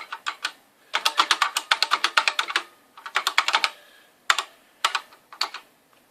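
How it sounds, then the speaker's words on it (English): Fingers type on a 1983 Kaypro 4 keyboard connected to a modern computer, producing rapid bursts of close, clacky keystrokes in quick runs, then a few slower, isolated presses and a sharper thunk near the end. "So here's a little test using the keyboard, trying to enter something into Notepad."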